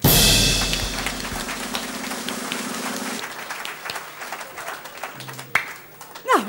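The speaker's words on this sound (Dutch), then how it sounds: "Een groot applaus voor Han de Gielsen." An audience at a variety evening in Rijsbergen bursts into loud applause that gradually thins out, with scattered claps and a voice near the end.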